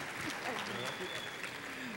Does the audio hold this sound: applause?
yes